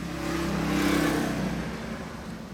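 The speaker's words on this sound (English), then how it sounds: "wait for that motorcycle to go by" A motorcycle and a car pass by outside, an engine hum that swells and then fades away over a couple of seconds, heard at moderate distance.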